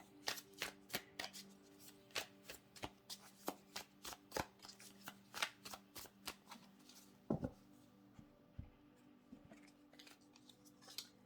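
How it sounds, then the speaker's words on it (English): Tarot cards are shuffled and flicked in a quick series of crisp snaps and riffles, close and fairly quiet, then slow down to a few slides as cards are pulled. "So let's just pull a few more cards for you."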